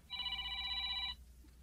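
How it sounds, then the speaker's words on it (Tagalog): A cellphone ringtone rings once for about a second during an Ilocano radio drama, a loud electronic warble of stacked steady tones that cuts off abruptly, over a low background rumble. "Adaw mauawag iti cellphone ko."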